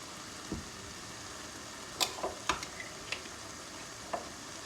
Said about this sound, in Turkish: ve salçamın kokusu çıkana kadar kavuruyorum.